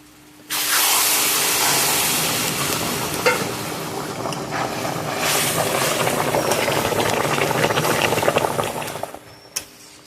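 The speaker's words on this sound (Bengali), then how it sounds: "গরম জল করে রেখেছি এবার আমি জলটা দিয়ে দেবো" Hot water poured into a frying prawn and vegetable curry with potato, pointed gourd and taro, sets off a loud, steady sizzle and hiss of steam that lasts several seconds before easing off, with no talking.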